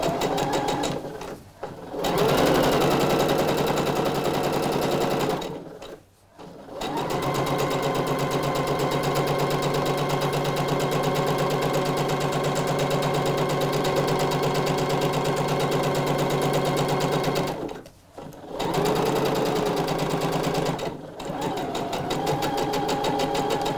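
Sewing machine running a second line of gathering stitches on a blouse, a fast steady mechanical whir with a few brief pauses, close and alone.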